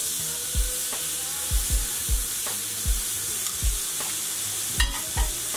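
A pork loin browns in a hot pan with a continuous sizzle, punctuated by a series of soft, regular knocks and clatters. No one speaks.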